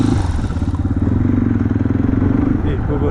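A road motorcycle revving hard with its exhaust popping, a loud close throbbing engine note with rapid pulsing bursts throughout, and a voice briefly over it.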